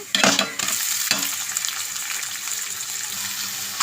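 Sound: amaranth leaves frying in tempering, stirred in pan

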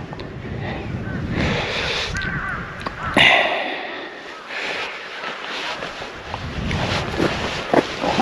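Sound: crows cawing, dozens of them

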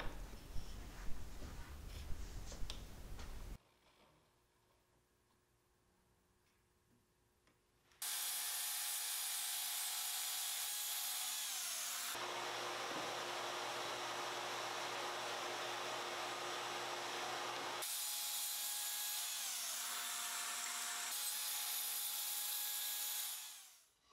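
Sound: sawing plywood parts for a storage bench

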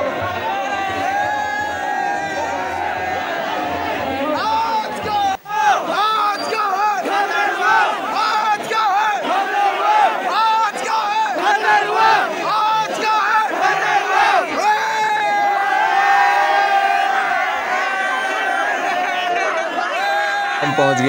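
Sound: crowd chanting slogans at Nanda Devi procession

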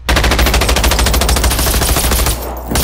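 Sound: machine gun fire from a flying robot in video game Generation Zero

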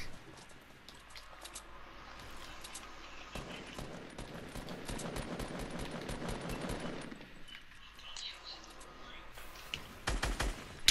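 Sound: gunfire in a shooter video game

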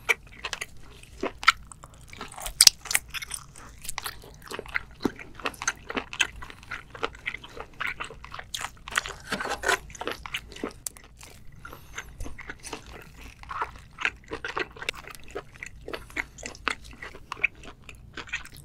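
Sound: eating scallops and seafood with jjajang sauce

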